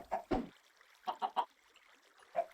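Minecraft chickens give a few short, close clucks and squawks, two quick ones at the start, then a tight group of three and a final single call after a pause.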